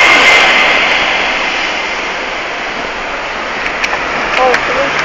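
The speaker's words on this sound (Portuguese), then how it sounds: "Olha o caminhãozão aí da cor." A large truck passes along a street, giving a loud, steady broadband roar that swells early and stays continuous for several seconds, with brief clicks and rattles near the end.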